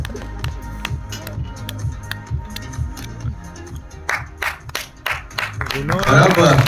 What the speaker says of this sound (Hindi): नाना सर के लिए जोरदार तालियां हो जाए.